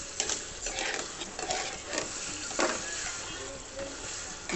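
Food sizzles in a pan during home cooking while a spoon stirs it, producing continuous frying hiss with light irregular scraping taps, close and moderately loud.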